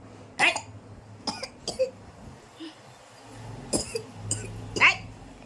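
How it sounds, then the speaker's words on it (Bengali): A child deliberately forcing out a series of short, dry coughs, a few isolated bursts spaced apart with quiet gaps between them, fairly close and moderately loud. "এমনি এমনি কাশি নিচ্ছে, দেখো ওর কোনো কাশি নেই।"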